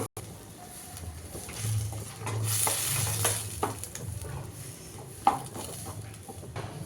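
Butter and tomato paste sizzle in a hot pan while being stirred, a steady close frying hiss with occasional scrapes and one sharp clink near the end.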